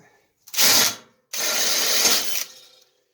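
A power drill whirs in two bursts, a short one then a longer steady run, drilling out a hole up close in part of a metal wall sconce before tapping threads.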